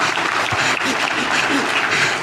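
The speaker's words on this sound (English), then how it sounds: "That's a better way to clap for Jesus." Church congregation clapping during a sermon, a loud, continuous roar of many hands with cheering voices mixed in.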